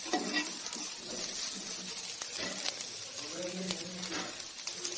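Chicken sausages lightly frying in a pan, a steady sizzle and crackle with occasional stirring scrapes throughout, with faint voice-like sounds in the background.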